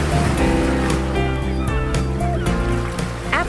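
Ocean surf breaks steadily along the south shore of South Beach (Katama Beach) on Martha's Vineyard, a broad continuous wash of waves rolling in, loud and near, with music playing over it.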